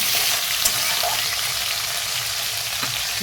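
Potatoes and cauliflower fry in a pan with a steady, loud hiss of oil, continuous crackling sizzle throughout with a few faint clinks of stirring.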